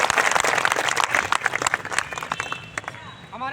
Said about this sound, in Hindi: उनके स्वागत के लिए आप लोग जोरदार तालियां